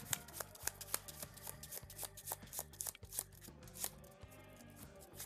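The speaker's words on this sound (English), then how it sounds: "I need to shuffle this villain deck or encounter deck one more time" A deck of playing cards for a villain or encounter pile in a tabletop card game is riffled and shuffled repeatedly, close by, in crisp rhythmic bursts with brief pauses between.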